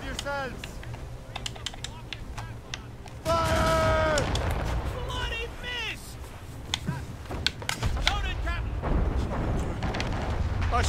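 Broadside of ship cannons aboard the Morrigan in Assassin's Creed Rogue, booming volleys in a heavy burst amid naval battle clatter, with shouted orders from voices throughout.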